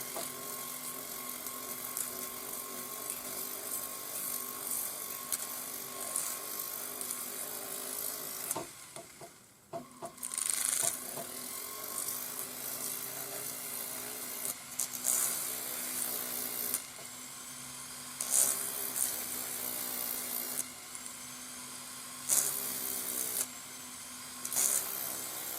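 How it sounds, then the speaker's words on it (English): Inside of a ring being sanded with 400 grade sandpaper on a spinning split mandrel, a steady high-pitched whirring grind that drops out briefly near the middle, then resumes with several short interruptions. "I'm just going to whiz it up using 400 grade sandpaper on my split mandrel"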